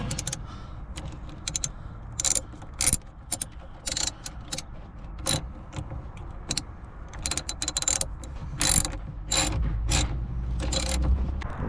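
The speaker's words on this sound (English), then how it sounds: "Righty tighty, 10mm for sure. And then we just tighten those." Sharp metallic clicks and clatter of a ratchet tightening 10mm bolts on a Pontiac G8 GT, coming in irregular bursts over a low background rumble, close and fairly loud with no talking.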